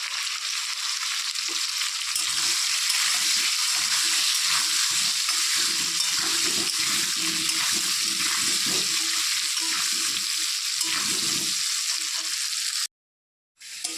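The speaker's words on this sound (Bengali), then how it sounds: "তো আলু ভাজা হয়ে গেছে এখন" Potatoes seasoned with salt and turmeric fry in a pan with a continuous loud sizzle and occasional stirring scrapes, then cut off abruptly near the end.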